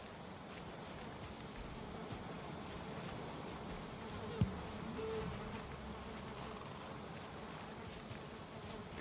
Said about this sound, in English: And I hear bees.